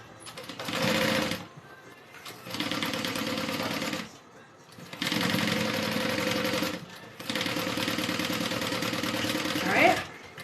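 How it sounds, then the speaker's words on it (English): A sewing machine runs in four long steady bursts with short pauses between while sewing a Denver backpack, close and even-toned, with faint fabric handling in the gaps. "So I'm just sewing and turning."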